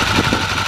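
A Honda Gorilla or Monkey style minibike engine idling during an oil change after a Wako's flush, a brief close, steady mechanical chugging with no talk.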